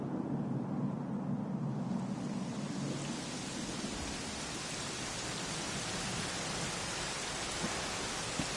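A constant, dense hiss of falling rain in the video game Dragon Quest XI S, steady and even, with a low rumble underneath early on.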